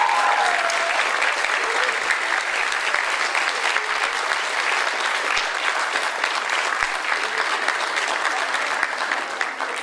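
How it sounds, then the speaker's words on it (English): A big round of applause rises from the audience at the Kent Enlightens Nepal 2017 student event after the Medway universities are named, a continuous, even wash of clapping that holds steady the whole time. "Big round of applause."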